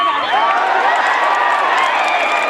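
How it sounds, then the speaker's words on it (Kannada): A dense, loud crowd at a Sai Baba temple fair in 2025 claps and cheers without pause, a continuous roar of hands and voices with a few whoops rising above it. "ಜೋರಾಗಿ ಚಪ್ಪಾಳೆ ಅಂತ ಬರ್ಲಿ."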